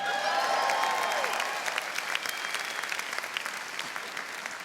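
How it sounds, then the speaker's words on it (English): A large audience applauds the Buffini team in a full, steady round of clapping with light cheering, strong at first and slowly easing off. "I want you guys to give the Buffini team a round of applause"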